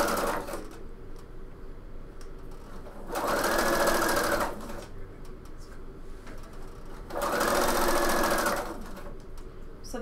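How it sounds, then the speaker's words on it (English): Sewing machine stitching piping on a bomber jacket, two steady whirring runs of a second or so each, close and clear over low room noise. "So I sew down on one side and then up on the other."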